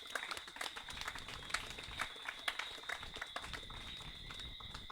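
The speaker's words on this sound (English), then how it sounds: "give a big round of applause for Ian" An audience gives a round of applause for Ian, a faint but continuous patter of many hands clapping at a steady pace with occasional sharper claps standing out.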